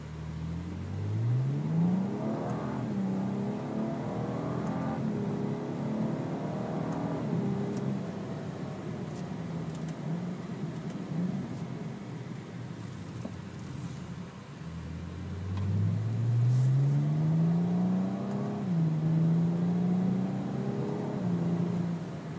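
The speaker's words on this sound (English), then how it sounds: "Here's a short clip of the Agency Power downpipe back exhaust system featuring a resonated mid-pipe and a high-flow exhaust muffler with titanium" A 2011 BMW 135i with a 7-speed DSG and an Agency Power downpipe-back exhaust (resonated mid-pipe, high-flow muffler, titanium tips) revs up twice, each rising sweep surging loudly out of a steady, droning engine note.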